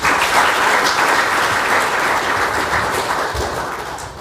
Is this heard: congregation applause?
yes